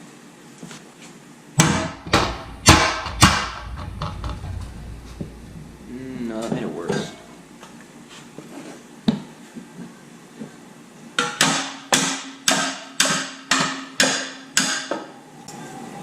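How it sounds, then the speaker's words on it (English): Sharp metallic hammer strikes close by on a bent snowblower part, a few spaced blows early, then a rapid steady series of about eight hits near the end, with a brief spoken remark between. "If I can hit it with a hammer."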